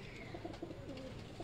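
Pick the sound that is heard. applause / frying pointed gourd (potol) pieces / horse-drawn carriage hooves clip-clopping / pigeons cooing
pigeons cooing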